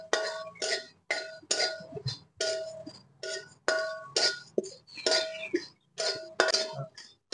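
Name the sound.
cumin seeds dry-roasting in a hot wok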